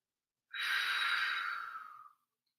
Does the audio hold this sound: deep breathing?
yes